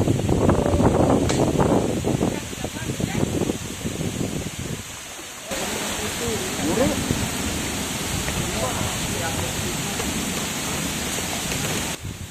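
Strong storm wind buffets the microphone at an outdoor fishing spot, loud roaring gusts with rumbling turbulence throughout, and voices are heard talking in the wind.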